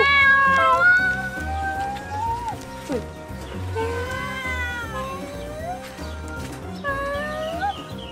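A cat meows repeatedly in drawn-out, wavering cries at close range, over a background of music and low murmuring.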